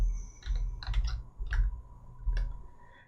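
Quick keystrokes on a computer keyboard sound as a short run of irregular clicks, close and clear over a quiet background.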